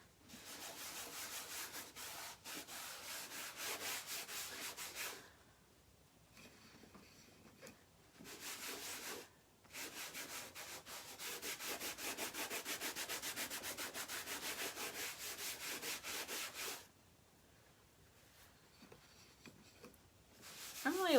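Wax paste rubbed into rough sanded wood on a round door hanger gives steady, close scrubbing strokes in long sustained runs broken by brief pauses.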